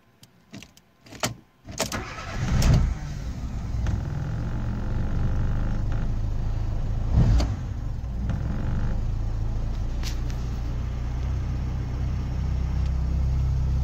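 A car engine is started and runs after its idle control motor has been cleaned and refitted, with clicks and a crank at first, then a steady low idle rumble holding evenly.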